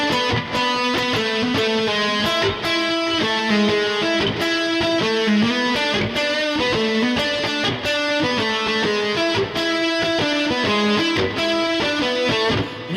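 A distorted electric guitar solos over chords in a jam session, with loud, sustained, heavily overdriven lines that ring continuously throughout.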